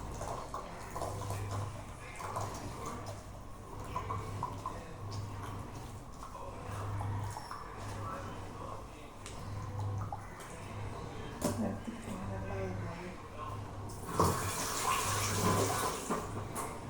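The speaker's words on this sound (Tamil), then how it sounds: "இப்போ பாருங்கள் பால் ஊற்றுவோம்." Milk is poured into a dish during cooking, making a continuous soft trickle and splash with a low hum behind it that grows a little louder near the end.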